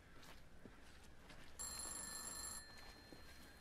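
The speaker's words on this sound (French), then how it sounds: "Il y a un truc qui sonne, vous entendez ou pas? On dirait un téléphone." A telephone rings inside a phone booth in a horror video game, a single bright electronic ring burst lasting about a second amid quiet, low ambient noise.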